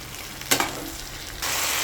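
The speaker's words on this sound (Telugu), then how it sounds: "ఇప్పుడు మనం నీట్గా పైనుంచి కిందకి కలిపేసుకోవాలండి పోపు అంతా పెట్టేటట్టు" A brinjal and cluster bean curry is stirred in a pan with its tempering, giving a soft scrape and a brief louder clack, with steady frying sizzle throughout.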